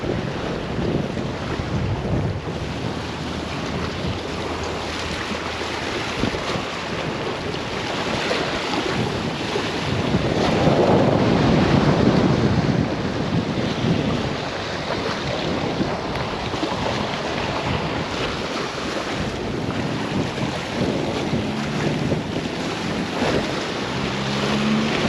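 Strong wind buffeting a fishing boat on open water, a loud continuous roar of gusts against the microphone with waves slapping beneath, surging in the middle and with no talk.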